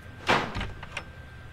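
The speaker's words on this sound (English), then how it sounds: "So doors is closing it?" A door swinging shut in the horror video game Araya: one solid thud followed by a few softer knocks and rattles, close and fairly loud, with no talking.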